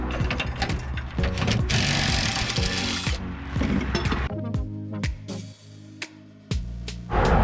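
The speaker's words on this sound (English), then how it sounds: "I love power tools." A power tool runs loudly and close in a workshop setting, whirring steadily with shifting motor pitch and mechanical rattling before stopping and restarting in short bursts near the end.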